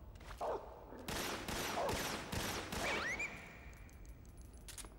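Gunfire in the Metal Gear Solid 3 video game, a quick series of sharp, loud shots in bursts over a couple of seconds, followed by a fading ringing tail and quieter game ambience.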